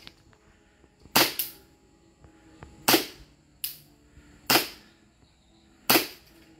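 Glock 17 pistol fired at a target on an outdoor range, five sharp, loud shots at irregular intervals, each with a short decaying echo, with quiet background between.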